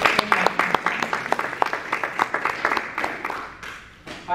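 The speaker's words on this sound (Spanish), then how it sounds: "Dale un aplauso al Señor." A church congregation claps and applauds with steady rapid clapping that fades out toward the end, with a voice present underneath.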